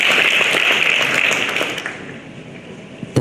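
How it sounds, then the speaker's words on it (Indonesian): Audience applause welcoming a 16-year-old student speaker from a Jakarta high school at a dialogue event with Pope Francis: dense, sustained clapping that fades toward the end, with no talk over it. "Kepada adik Brian, kita undang dengan tepuk tangan dulu."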